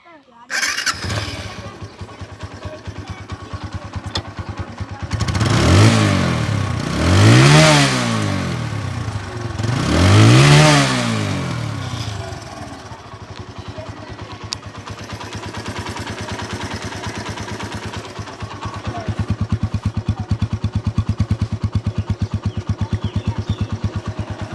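A TVS Apache RTR motorcycle engine cranks and starts up close, then gives three sharp rising and falling revs. It settles into a loud, steady idle.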